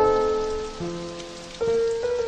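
Pouring rain in a garden hisses steadily beneath sustained musical tones that shift pitch, with no voices.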